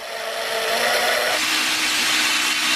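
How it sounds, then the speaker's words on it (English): Rock drill hammering and rotating its bit into solid rock, a loud, steady grinding roar that shifts slightly in tone partway through, close and continuous with no voices. "there is a rock drill hammer on that feed, which will be giving an impact movement to the drill itself"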